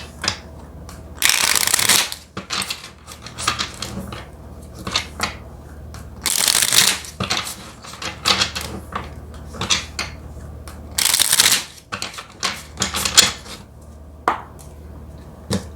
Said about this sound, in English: let's go ahead and get a few more cards